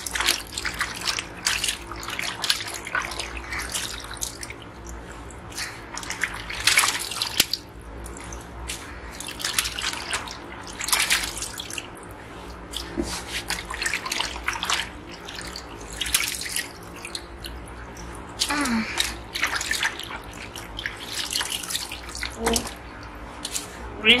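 Running water splashes and drips in uneven bursts while snails are rinsed during food processing, fairly close and soft, with someone speaking at times.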